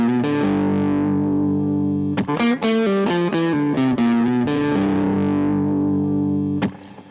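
Distorted electric guitar plays a quick lick of picked notes and pull-offs in steady sixteenth-note phrasing, sustained heavy overdriven tone with effects, close and loud, with no voice over it.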